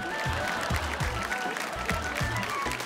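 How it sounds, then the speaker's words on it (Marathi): An audience at a Marathi TV show applauds, a dense continuous clatter of clapping under rhythmic music beats, fairly loud throughout. "एकदम जोरदार टाळ्या होऊन जाऊ देत."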